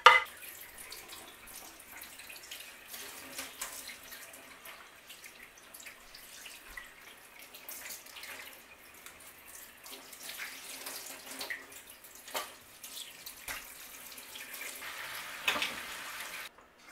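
Tap water runs steadily over a freshly descaled bass at a kitchen sink, a continuous splashing hiss with small drips and patters, fairly quiet and close, with no talking.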